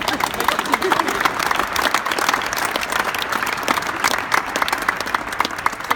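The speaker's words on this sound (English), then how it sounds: "So let's give them a round of applause, this couple." A crowd at a retirement ceremony applauds a retiring couple, loud and steady clapping from many hands filling all six seconds, with a few voices mixed in beneath.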